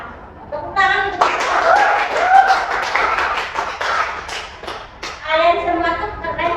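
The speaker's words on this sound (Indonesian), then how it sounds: "Tepuk tangan untuk" Students clapping hands in a classroom, a quick burst of group clapping in the middle of a lesson, with a teacher's voice before and after and children's voices mixed in.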